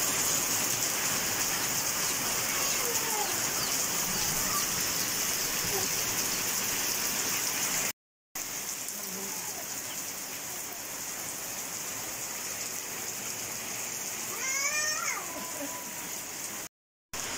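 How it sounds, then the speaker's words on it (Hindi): Heavy storm rain pouring onto a rooftop, a dense, steady roar of drops lasting throughout, loud and close, with people talking over it. "बारिश तो रुकने का नाम नहीं ले रही, तेज से तेज होती जा रही है।"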